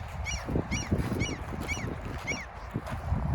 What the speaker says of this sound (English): you can hear the seagulls in the back.